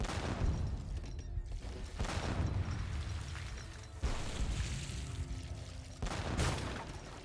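Rocket artillery fires in an Age of Empires 3 battle, with repeated loud whooshing bursts and booms about every two seconds, layered over dense continuous battle noise.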